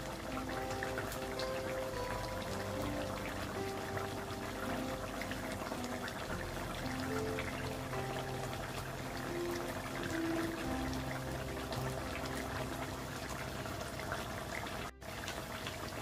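Katla fish curry with a mustard and poppy seed sauce simmering and reducing in a pan, a steady close bubbling and spluttering that runs on unbroken without talk.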